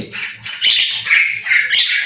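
A pet common myna, a talking bird, gives several bright, fairly close chirping calls in quick bursts over about two seconds, with no speech.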